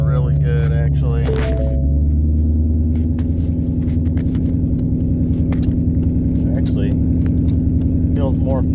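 A 2011–2023 Ford Mustang with a manual clutch drives down the road, its steady engine drone and road noise running loud and continuous throughout, with a person talking over it at the start.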